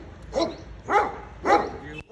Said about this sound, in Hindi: अरे कुत्ता